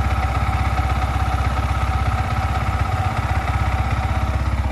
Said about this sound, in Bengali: সো এবার আমরা একটু ইঞ্জিনের কাছ থেকে সাউন্ডটা শুনব।